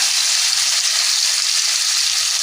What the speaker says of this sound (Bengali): তেল ভালোভাবে গরম হয়ে গেলে মাছগুলো হালকা ভেজে তুলে রাখতে হবে